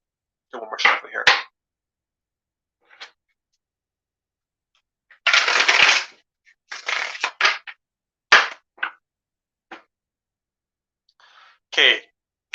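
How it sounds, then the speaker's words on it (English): Cards are riffled and snapped in several short bursts separated by silence, crisp papery flutters and taps close to the listener. "do one more shuffle here"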